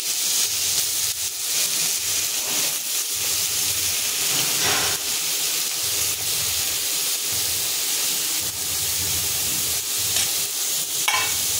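Grated papaya with panch phoron and chilli fries in a pan over a medium-low flame, a steady close sizzle broken by soft scrapes of stirring throughout.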